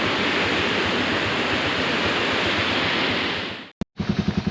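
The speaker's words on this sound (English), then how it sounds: "all this water running down here, the little waterfall, it's all out of a hot springs at the top" Hot spring water runs down a small waterfall in a loud, continuous rushing wash up close, cutting off abruptly before a short burst of rhythmic thumping.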